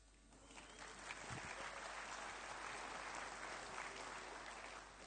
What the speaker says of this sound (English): It's fascinating the things people actually are applauding for.